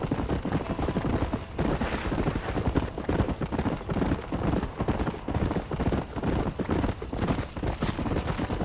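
A horse gallops in the Red Dead Redemption video game, its hooves beating a rapid, continuous clip-clop close by and loud, with no talking over it.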